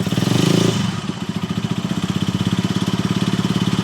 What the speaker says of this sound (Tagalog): lalo pagka ni-rev natin yung ating motor, rev natin kunti